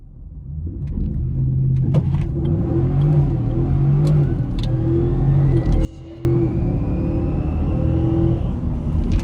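A 2016 Ford F-150 single cab with a 5.0 V8 and 4x4, launched on a dyno, its engine revving loud and close, a rising droning rumble with one brief cut before it continues climbing.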